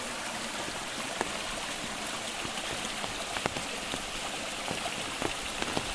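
Rainwater runs through a brimming village gutter during the first monsoon rain in Kumbhavade, Konkan, a constant wash of rain hiss and flow with scattered drop ticks, no talk.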